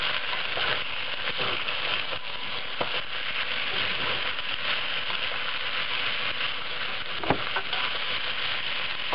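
Onions frying in oil in a pan while being stirred give a steady, moderate sizzle with soft scraping and a few sharper knocks, close by and without speech.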